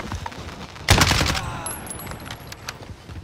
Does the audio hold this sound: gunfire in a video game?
yes